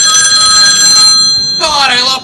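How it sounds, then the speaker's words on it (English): A mobile phone rings loudly and close, a bright repeating electronic ringtone that briefly cuts out and then returns with a sweeping melodic phrase. "Oh, my phone is ringing."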